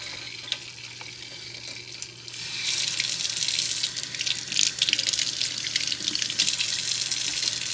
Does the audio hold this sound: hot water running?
yes